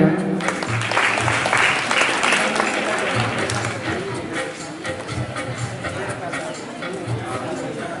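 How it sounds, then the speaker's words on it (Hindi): Sustained audience applause at a school farewell ceremony, steady dense clapping from a crowd that continues throughout, with some chatter and voices mixed in. "एक बार अच्छे से फिर से ताली बजाएं।"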